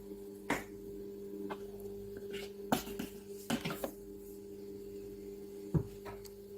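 Fruit cake batter with black treacle being mixed in a bowl, with sharp clinks and taps of a utensil against the bowl scattered over a soft steady hum, fairly quiet and close, no talk.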